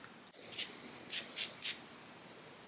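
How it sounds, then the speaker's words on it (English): Lattafa Khamrah Qahwa perfume sprayed onto an arm, four short close hissing atomizer bursts, one single and then three in quick succession, in a quiet room. "I'm gonna spray it on this arm right here."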